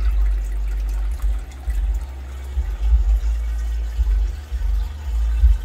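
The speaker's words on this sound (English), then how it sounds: "Running the water just enough to get it recirculating for right now." Water runs steadily through a newly filled two-site Fallponics RDWC hydroponic setup, recirculating for the first time. It makes a continuous low, rumbling gush with uneven surges and no talk.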